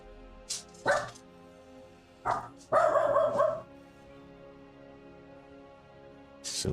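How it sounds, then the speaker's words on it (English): Dogs bark indoors in a few scattered short bursts, then one longer cluster of barking, moderately loud and not far off, with no talk over them. "Silly dogs."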